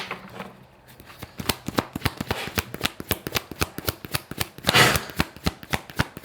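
Cards are shuffled in a rapid close-up riffle, a long run of sharp evenly spaced flicks with one louder burst near the end, heard alone without talk.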